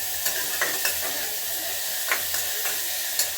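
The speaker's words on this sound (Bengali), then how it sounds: "এবার এগুলো ভালো করে ভাজতে হবে" Chili, tomato, onion and ginger fry in a pan with a continuous close sizzle, punctuated by several crisp spatula scrapes and stirs at irregular intervals, with no talking.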